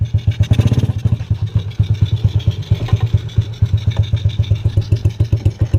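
A 110cc motorcycle engine fires up and runs with a fast, loud, close putter, its pulses steady after a brief rev at the start.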